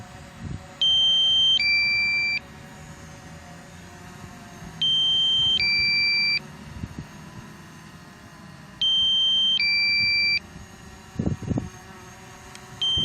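A DJI Mavic Pro drone sounds its low battery alarm, repeating a loud two-tone electronic beeping pattern three times at regular intervals, close by, with faint background noise between bursts and no talking.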